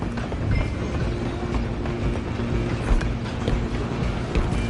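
A train rolls along in Red Dead Redemption 2, giving a steady close rumble with a faint rhythmic clatter of wheels on rails that goes on without a break.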